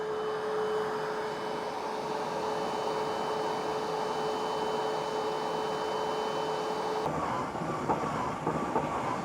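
A Bissell SpotBot pet spot cleaner running with a steady mechanical whir and a sustained motor hum, continuous and fairly loud, shifting abruptly near the end as the suction cuts off while the machine keeps working.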